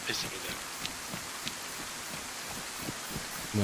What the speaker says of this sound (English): I'm going to turn this rain down.